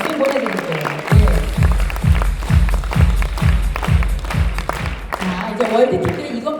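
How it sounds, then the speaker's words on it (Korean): An indoor audience at an awards event claps in a steady, rhythmic unison beat, loud and close, with a voice speaking over the start and end of the clapping. "레벨 3 여러분 이분에게 박수 보내드릴게요"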